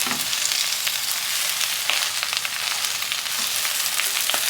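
Spinach wilting in a hot pan for a potato cheese crustless quiche: a loud, continuous hissing sizzle with occasional soft scrapes of stirring, close up, with no voices.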